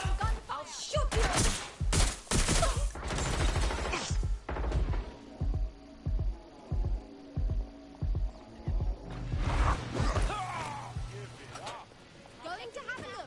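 Gunfire from a firefight in Watch Dogs Legion comes as a string of evenly spaced, punchy bursts, with heavier chaotic crashes before and after and voices talking throughout.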